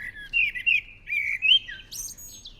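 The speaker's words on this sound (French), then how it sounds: "Le chant des merles des villes est différent de ceux des forêts." An urban common blackbird sings a varied run of whistled phrases rising to high, thin notes at the end, clear and unaccompanied over faint low city rumble.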